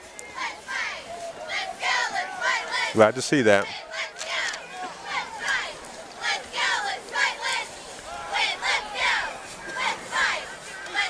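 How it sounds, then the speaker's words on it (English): A big crowd in the bleachers at a high school football game yells and cheers in repeated loud surges, with kids shouting and a brief whistle-like burst early on, while a nearby voice talks over the noise. "Got a good crowd here tonight."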